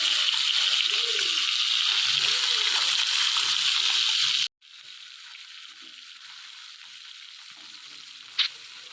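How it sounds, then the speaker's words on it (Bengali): Small hilsa fish frying in mustard oil in a pan give a loud, steady sizzle with bubbling for about four and a half seconds, then the sound drops to a quiet, soft crackle with one brief click near the end. "দিয়ে মাছগুলো হালকা করে ভেজে নিতে হবে।"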